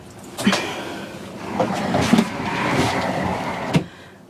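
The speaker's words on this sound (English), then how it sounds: "you've got a sliding door into the bedroom area," A sliding door to the bedroom in a 2024 Burstner Harmony Line Lyseo TD 736 motorhome slides along its track with a few soft knocks and rattles, close by and moderately quiet, with faint room noise.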